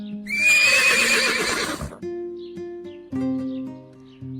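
A horse gives a loud, close whinny as a sound effect in a children's story, a shrill wavering neigh lasting under two seconds, followed by soft melodic music.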